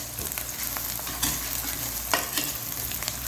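Whole spices, including green and black cardamom, fry and are stirred in a pan for mutton karahi masala, a steady close sizzle with occasional scraping strokes and no talking.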